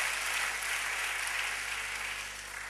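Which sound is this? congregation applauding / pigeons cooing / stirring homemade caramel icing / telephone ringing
congregation applauding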